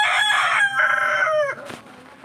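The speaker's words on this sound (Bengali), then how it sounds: "আর এই 3টে মুরগি আছে" Backyard hens kept for eggs cluck and squawk close by in a short, loud burst of calls that trails off into quieter background noise.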